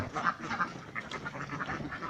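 A flock of Khaki Campbell egg-laying ducks on a farm keeps up a steady stream of quacks, several birds calling over one another at close range with no voices.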